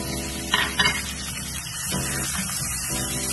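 Chicken pieces fry with spices in a pan for chicken kachnar, giving a continuous close sizzle with a couple of brief stirring bursts near the start.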